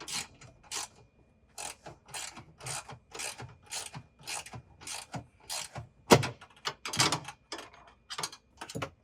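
A ratchet tightens a GH1 microwave overhead cabinet kit in quick bursts of close, crisp clicking, with short pauses between sets of strokes and no talk.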